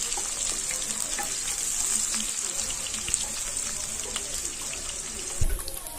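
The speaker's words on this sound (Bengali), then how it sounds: "এই পেঁয়াজ কুচিটা ভালো করে ভেজে নেব।" Chopped onions frying in a pan, a steady bright sizzle running throughout with occasional clicks of stirring, fairly quiet and with no speech.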